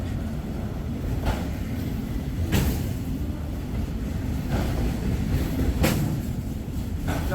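A freight train rolls past on the railroad, a continuous low rumble with periodic sharper clacks from the wheels every couple of seconds, fairly close and steady, with no voices.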